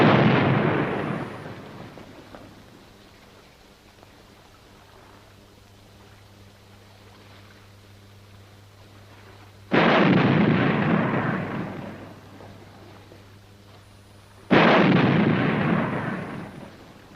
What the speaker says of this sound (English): Sounds like somebody shooting.